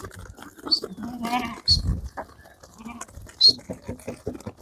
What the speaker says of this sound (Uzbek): Bobotog'da echkilar.